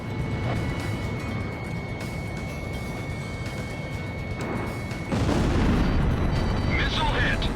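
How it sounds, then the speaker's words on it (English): A missile strikes its target in the Ace Combat Zero: The Belkan War flight game, a loud burst rising over a continuous roar of jet and combat noise, with the impact swelling near the end. "Missile hit."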